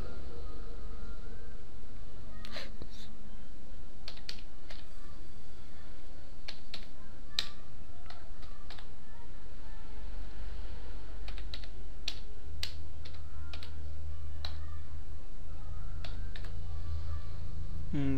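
Keys on a computer keyboard clatter in irregular clicks and short runs during website registration, close and steady over a constant low hum and background hiss.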